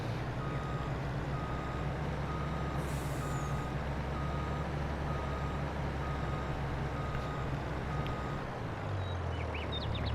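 Truck in Farming Simulator 22 backing up, its steady reversing alarm beeping in an even rhythm over a loud idling diesel engine, with a hiss of air brakes near the start and the engine dropping in pitch at the end.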